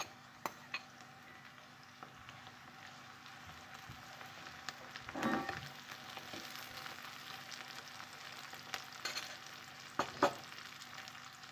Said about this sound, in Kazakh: пияздың үстіне қуырамыз.